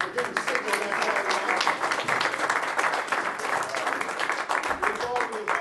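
Sustained applause from an audience at a school board candidate forum, steady and moderately loud for several seconds, with some voices mixed in.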